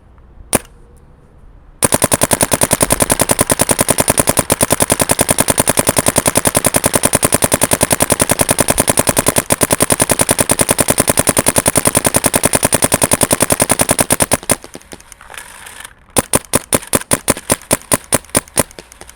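A Dye M3+ paintball gun fires a long, dense, machine-like stream of shots at close range, loud and unbroken for about twelve seconds, then pauses and resumes with a few spaced single shots.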